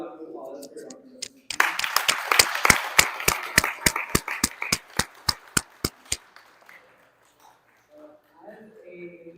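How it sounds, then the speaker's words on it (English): Clapping at a presentation with Dr. Ratnu: a steady run of sharp, evenly spaced claps over a faint wash of crowd noise, with voices talking before and after. "Another round of applause for Dr. Ratnu."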